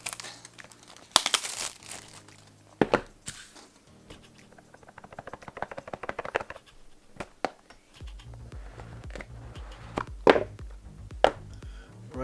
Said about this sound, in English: let's unbox it, and cutting with this blunt blade of mine